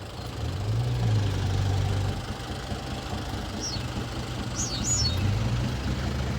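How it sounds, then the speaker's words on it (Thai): A tractor engine drones steadily at a low, heavy pitch, pushing a stuck vehicle, with a constant rumbling idle and a few faint high chirps over it. "รถไถช่วยดัน"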